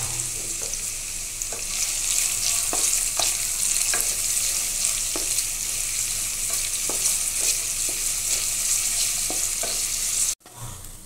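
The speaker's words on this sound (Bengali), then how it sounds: "এর ভিতরে আমি পেঁয়াজ কুচিটা ভেজে নেব" Chopped onions sizzle and crackle steadily in hot mustard oil in a pan, with intermittent scraping stirs, loud and close before cutting off abruptly.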